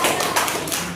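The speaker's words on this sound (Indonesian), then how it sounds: "Oke, kita kasih aplaus." An audience at a campus presentation claps together in a dense, continuous burst of applause that lasts about a second and stays loud throughout.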